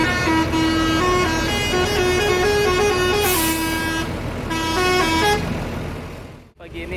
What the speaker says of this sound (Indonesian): Pagi ini ada 3 bus yang berhenti ya.